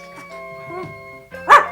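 A small cartoon dog lets out one short, sharp yip near the end, loud and close, after a soft musical backdrop with no talking.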